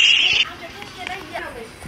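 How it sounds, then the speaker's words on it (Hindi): Harsh buzzing alarm tone ringing for about half a second, then cutting off as talk and background babble continue. "अलार्म बज रहा"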